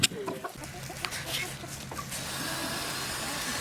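Backyard chickens, a small flock of about three hens, cluck softly in short scattered calls at close range over steady outdoor background noise.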